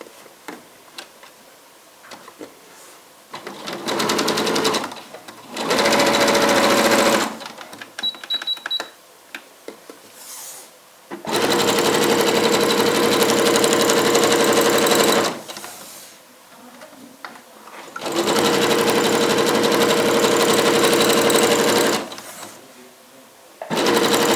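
A sewing machine stitches the folded edge of a fabric skullcap in several steady, rapid runs of several seconds each, with brief quiet pauses between them and no talking.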